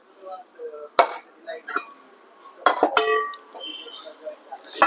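Tri-ply kadhai, frying pan and pot clinking together, with several sharp metallic knocks and rings spaced irregularly among soft handling sounds while someone talks.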